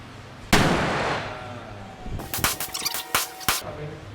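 Gunshots at a shooting range in Krabi: one loud, close blast with a long decaying tail, followed by a quick series of sharper shots or pops.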